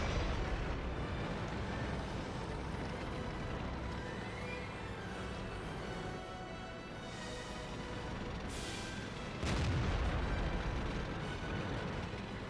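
A short-barreled howitzer on an A13 Mk 2 tank fires an armor-piercing round in World of Tanks. A sudden loud boom breaks through dense, steady battle rumble and a bright crack, followed by a heavier blast.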